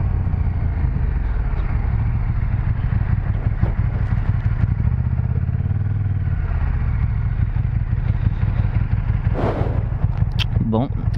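KTM 1290 Super Duke GT motorcycle being ridden, its engine a loud, steady low rumble with wind noise and a few sharp clatters, while a rider talks over it.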